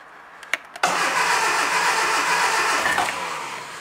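A car engine starts for the first time after an engine change: a few clicks and a brief crank, then it catches and runs at a loud, steady idle close by, with no talk.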